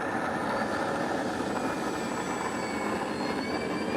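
An E-flite Commander RC airplane flies overhead with a steady, continuous electric motor and propeller drone, fairly loud and unbroken, with no voices.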